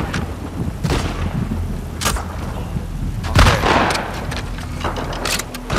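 Gunfire in The Last of Us Part II sounds as several sharp gunshots spread across a continuous gameplay soundscape, with one heavier boom standing out midway.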